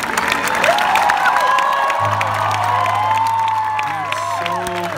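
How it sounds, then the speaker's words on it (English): Concert crowd at a Milan rock festival applauding and cheering steadily, a dense wash of clapping with whoops rising above it, loud and continuous throughout. "Fantastic applause!"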